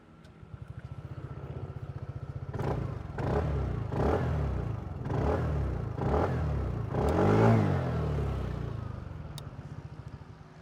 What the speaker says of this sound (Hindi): इसका एग्जॉस्ट 125 जैसा ही है, एक बार आपको सुना देते हैं।